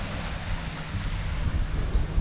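Strong wind and lapping waves on Lake Tahoe, a steady, close roar of wind buffeting the microphone with low rumble and water wash, continuous and without talk.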